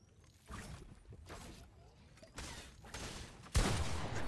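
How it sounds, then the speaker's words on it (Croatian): Gunfire in the Fortnite video game, shots punching through a wall, arriving as bursts of rapid fire with the loudest volley near the end. "Kako puca kroz zid?"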